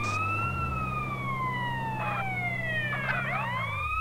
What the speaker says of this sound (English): Sorry for the ones who can hear the ambulance coming, but it never actually gets there for ages.